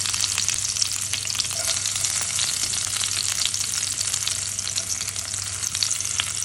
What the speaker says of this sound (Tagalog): Sa pinagprituhan ng patatas, lagyan natin ng bawang.